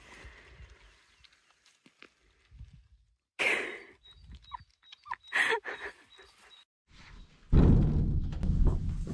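A dog in a garden snorts, sniffs and gives soft breathy whimpers while shuffling and moving about nearby. The sounds come in irregular bursts separated by quiet gaps, with one louder rustling stretch at the end.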